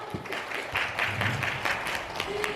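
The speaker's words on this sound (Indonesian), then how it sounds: "Tepuk tangan dulu dong." A small group claps for a couple of seconds, scattered and moderately loud indoors, rising briefly and then thinning out.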